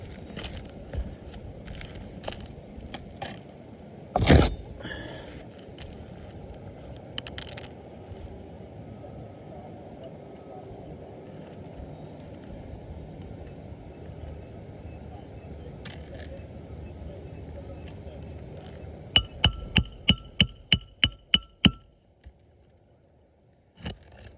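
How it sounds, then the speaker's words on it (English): Sharp hammer blows on roofing shingles during a roof repair ring out, a single heavy hit early on, then a quick run of strikes near the end, with faint scraping and handling noises between. "every time we're hammering them home, we're damaging these shingles"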